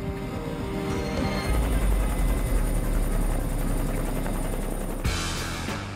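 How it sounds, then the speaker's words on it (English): A Ka-32 helicopter drones steadily with a dense, rapid rotor chop, loud and close, with a brief shift in tone near the end. "the Ka-32 is cleared for takeoff, and the chopper begins its journey to the Black Pyramid"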